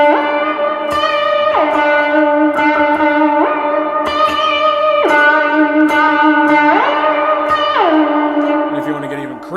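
Electric guitar played through two stacked overdrive pedals with heavy reverb, sustained distorted chords and bending notes that ring out and glide between pitches, loud and close with long washy tails.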